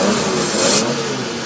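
A Ferrari 250 GTO's Colombo 3.0-liter V12 with six Weber carburetors revs loudly and close, a dense sustained engine roar that rises briefly before easing.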